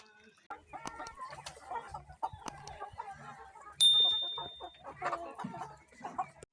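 Chickens cluck and chatter inside a 200-square-metre poultry house, with overlapping hen calls and one sharp, louder squawk midway. Someone speaks quietly underneath.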